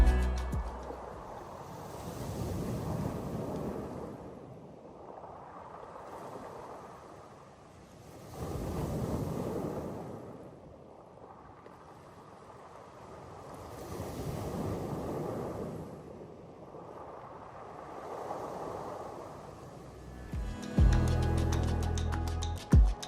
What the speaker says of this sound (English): It's so calming just listening to the waves roll in and crash against the rocks